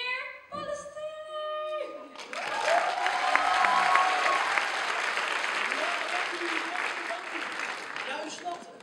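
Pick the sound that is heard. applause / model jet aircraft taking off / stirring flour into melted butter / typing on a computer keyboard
applause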